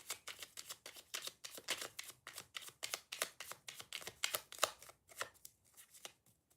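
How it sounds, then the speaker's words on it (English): Playing cards are shuffled by hand during a card reading: a quick, steady run of crisp riffling snaps and soft slaps repeats over several seconds. It is fairly quiet and close, with no talking. "Just shuffling."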